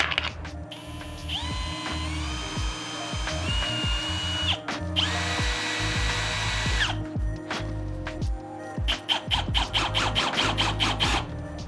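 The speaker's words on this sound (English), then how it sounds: "So I'm gonna go ahead and pre-drill these little spots." A power drill whirs in several bursts, revving up and winding down as it pre-drills small holes in a live edge wood charcuterie tray, ending in a rapid run of short stuttering pulses.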